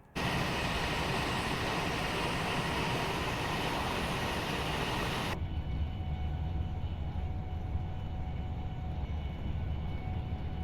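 An underground train in Train Sim World 5 on the Milton Keynes to Euston line runs with a steady, loud rumbling roar that continues without pause, its higher hiss cutting off midway while the low drone carries on.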